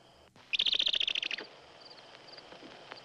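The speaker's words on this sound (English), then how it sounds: "Bird give warning." A bird gives a sharp warning call in the woods, a rapid burst of a dozen loud chirping notes, then fainter scattered calls in a quiet setting.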